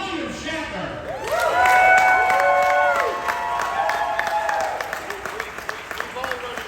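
Audience applause and cheering from a crowd at William Shatner's handprint ceremony, rising into a sustained burst mid-way and then tapering off, with scattered shouts and voices mixed through it.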